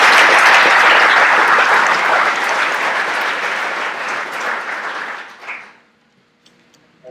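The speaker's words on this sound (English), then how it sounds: "how about another round of applause to our Public Affairs Department" An audience at a public affairs event claps in sustained, dense applause that fills the room, holding strong for several seconds before tapering off and stopping abruptly, leaving near silence.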